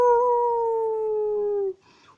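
One long, steady howl held close and loud for nearly two seconds, sliding slightly downward before cutting off into quiet; it may be a voice imitating a dog howling.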